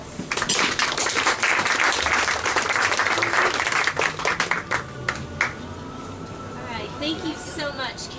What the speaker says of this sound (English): Welcome her with a round of applause.